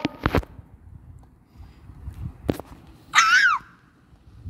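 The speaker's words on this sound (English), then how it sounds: "Why are you screaming?" Person in a chaotic Roblox Brookhaven session letting out a short, high, sliding scream near the end, loud and sharp, after a few scattered clicks and bumps.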